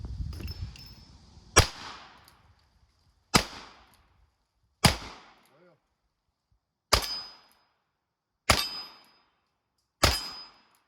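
Six sharp, loud revolver shots from a second generation Colt 1873 with a 5.5 inch barrel, made in 1964, spaced about one and a half seconds apart, each with a ringing tail.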